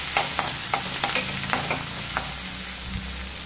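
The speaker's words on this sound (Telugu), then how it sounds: "ఈ ఉల్లిపాయలు బ్రౌన్ కలర్ వచ్చేటంత వరకు మనం ఫ్రై చేసుకుందాము" Sliced onions with curry leaves and coriander fry in a pan, giving a soft steady sizzle under repeated light scraping and tapping of a spoon stirring, with no voices.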